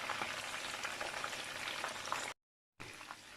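Fish fries in a pan for a red pepper and tomato sauce dish, giving a soft, even crackling hiss with no talk, cut off briefly by a short silent gap near the end.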